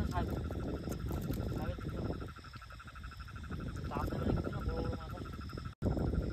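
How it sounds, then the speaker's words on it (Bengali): Frogs calling at night around a rain-soaked wetland in the Sundarbans, a steady pulsing chorus mixed with chirping insects, with low voices murmuring underneath. "রাত্রেবেলায় ব্যাঙ ডাকছে,"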